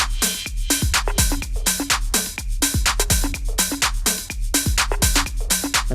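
Layered drum loops from a remix track, with a shaker loop over the original drums and another percussion groove, dense and punchy with rapid repeating kicks and hits, loud and continuous with no talk.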